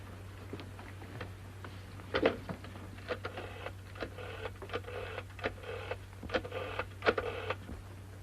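An old 1930s telephone is dialed in a London office scene, giving a series of irregular mechanical clicks and short rattling bursts over a constant low electrical hum, with no speech.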